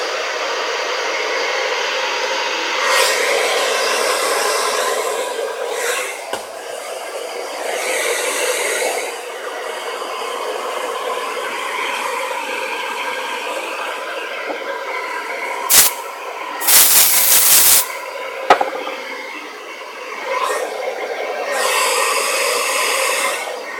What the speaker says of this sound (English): I'm going to blast the hairdryer so forgive the noise for a few seconds